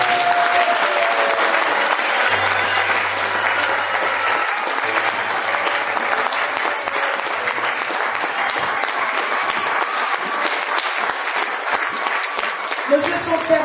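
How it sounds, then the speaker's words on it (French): A church congregation at a French-language gospel sermon claps and cheers for the Lord, with loud, continuous applause and voices mixed in throughout. "Est-ce qu'on peut acclamer le Seigneur?"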